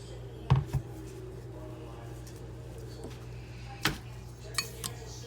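A chocolate-dipped strawberry tapped lightly against the side of a bowl, a few soft clinks, two close together and then scattered, under quiet talk.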